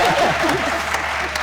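Studio audience applauding on a Pakistani cricket comedy talk show about the T20 World Cup, a steady wash of clapping with a few louder bursts throughout.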